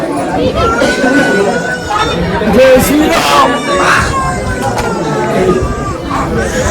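Dense crowd chatter fills a busy temple queue at Dongargad, many overlapping voices and occasional shouts forming a steady, loud babble with no single voice standing out.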